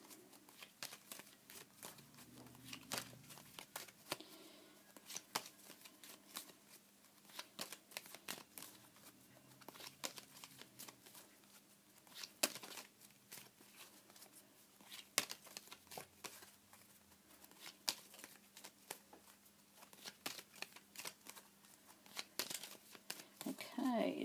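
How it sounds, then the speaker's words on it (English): A deck of tarot cards is shuffled by hand, giving a steady run of soft riffling and snapping clicks throughout, with a voice talking over much of it. "while I'm shuffling the cards"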